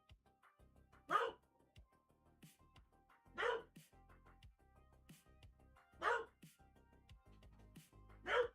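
A dog barks at the speaker in four short, sharp bursts spaced a couple of seconds apart. The barks sound fairly faint and distant over a quiet background.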